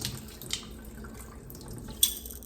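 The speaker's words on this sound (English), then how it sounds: "Drain the water again." Water drains quietly from a sprouting jar of seeds, a faint trickle and patter with a couple of small splashes.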